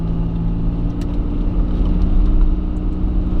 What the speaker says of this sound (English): Sometimes it's just a low idle and then kicks back up.